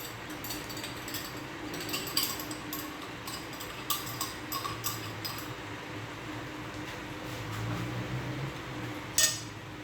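Spoon stirring beef calderita with pickles in a pot, giving repeated metallic scrapes and clinks against the pot in an uneven rhythm over a low cooking hiss, with a louder clatter near the end.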